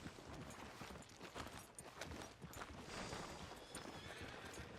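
A horse whinnies amid clattering hooves in the busy, dense soundscape of Red Dead Redemption 2, with continuous clip-clop and no clear speech.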